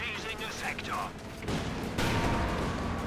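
Gunfire from Company of Heroes 2, a 30mm flak gun blasting an MG crew, rumbles as dense continuous bursts and booms that swell louder midway, under a commentator talking over the match.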